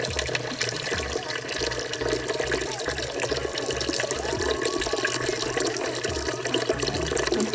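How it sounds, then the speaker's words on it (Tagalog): Broth is poured into a pot for bulalo in a home kitchen, a continuous close splashing and trickling of liquid with faint background voices. "Maglagay na tayo ng sabaw."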